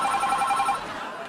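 A telephone rings in a home during a heated household argument, a bright repeating electronic trill that carries clearly, then fades somewhat toward the end.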